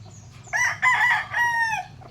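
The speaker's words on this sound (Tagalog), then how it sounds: "my backyard rooster here" A backyard Asil-cross rooster gives a single close crow, a loud, short call in several rising and falling segments over quiet background noise.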